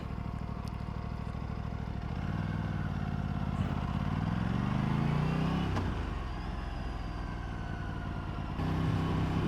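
Aprilia RS 457 motorcycle on a practice ride, its engine droning steadily and close with rising and falling revs as it slows to full stops, no talk over it.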